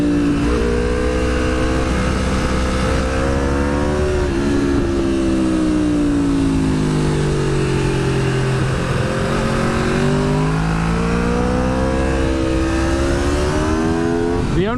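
A modified 2010 Aprilia RSV4 motorcycle is ridden hard, its engine note loud and close, rising and falling through repeated revving and gear changes under heavy wind noise.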